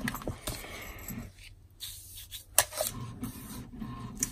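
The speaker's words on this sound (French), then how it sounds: "il m'a allumé l'imprimante" A printer running indoors, a soft whirring and shuffling mechanical noise with intermittent clicks and a brief sharp tick, fairly quiet and steady over several seconds.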